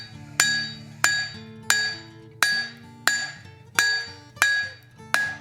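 Hammer blows on hot steel as a hand-forged axe head is thinned on the anvil, seven sharp ringing strikes at a steady rhythm of about one per second, each clear and loud with a metallic ring trailing off.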